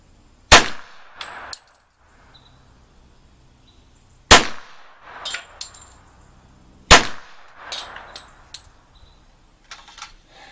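A Thompson submachine gun fires three sharp, loud single shots spaced a couple of seconds apart. Each report is followed by metallic clinks and rattles against a quiet background.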